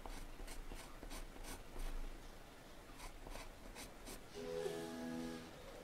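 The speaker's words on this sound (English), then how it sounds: "you can draw these lines." A 2H pencil scratches lines onto paper for a drawing of a Scottish Terrier, heard as a quick series of close, dry, rhythmic strokes with no talking.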